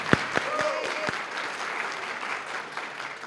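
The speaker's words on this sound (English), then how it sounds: "So give yourself a round of applause." A short round of audience applause at a community music evening, a dense patter of many hands at moderate level, opening with a few louder sharp claps and fading slightly toward the end.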